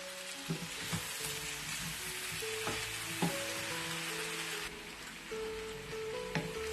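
Green chillies and curry leaves being stirred in a frying pan, a steady crackling sizzle with occasional spoon clinks and scrapes against the pan, no speech.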